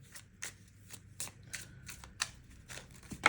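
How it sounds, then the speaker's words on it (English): Tarot cards shuffled by hand in a quiet room, a run of soft, crisp riffling bursts coming in an irregular rhythm, close and faint, with no talking. "So at this, I'm going to shuffle."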